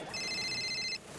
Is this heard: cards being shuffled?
no